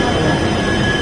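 A train rumbles and grinds steadily at a platform of Old Delhi railway station, with a loud, continuous wheel-and-rail roar and a faint high squeal.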